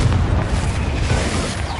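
A Confringo explosive spell blast in Hogwarts Legacy booms loudly, a heavy, sustained low rumble lasting the whole moment.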